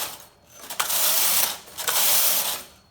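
A punch card knitting machine carriage pushed across a row, giving two sustained mechanical whirring, ratcheting passes with a short pause between them, close and fairly loud, with no talking.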